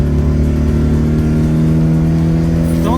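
A Toyota AE86 with a 4A-GE 20V engine holds a loud, steady, high-pitched rev close by, its tone sustained with a slight rise at the end, and no talking.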